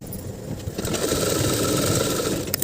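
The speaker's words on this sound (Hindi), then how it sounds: "अब इसकी हम यहाँ तक सिलाई कर देंगे।" A sewing machine runs a seam on a salwar, giving a brief, continuous close-up mechanical whir that stays steady throughout, with no voices.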